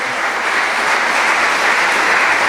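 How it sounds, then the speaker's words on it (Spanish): A church congregation bursts into dense, continuous applause, a close, steady wash of many hands clapping with no speech over it. "Dale un aplauso."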